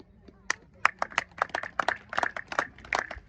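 Protesting farmers at a sit-in clap in scattered, uneven bursts, a handful of hands striking irregularly over a few seconds at moderate distance.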